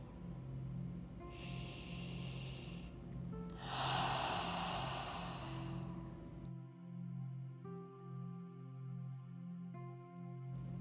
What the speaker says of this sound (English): Inhale through your nose and exhale out your mouth.